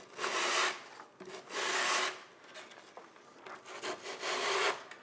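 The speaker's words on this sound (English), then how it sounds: "I'm gonna try to make sure I'm touching all surfaces with the file" A hand file is worked over a taxidermy wall pedestal in long rasping strokes, roughly four or five scrapes with short pauses between, close and fairly loud with no talking.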